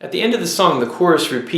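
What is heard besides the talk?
No distinct noise like a dog, phone or traffic.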